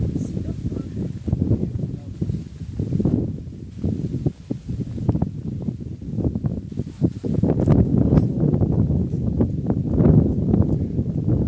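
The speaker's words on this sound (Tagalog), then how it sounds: "Ang hangin." Steady wind buffets the microphone in low rumbling gusts on a foggy viewpoint at Mayon Volcano, with voices talking over it throughout.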